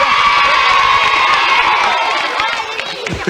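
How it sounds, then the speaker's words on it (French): A TV studio audience at a children's game show breaks into loud, sustained cheering, whooping and shouting, with children's voices prominent, fading slightly toward the end. "On peut les applaudir, bravo."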